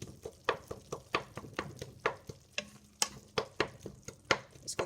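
Tomato masala for taro (arvi) curry frying in a pan while a spoon stirs it in quick, regular strokes, each scrape crisp and close over a faint sizzle, with no talking.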